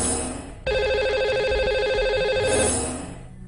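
A telephone rings out on a radio show's line while a caller is dialled, a loud steady electronic ring tone lasting about two seconds after a brief lead-in, then fading.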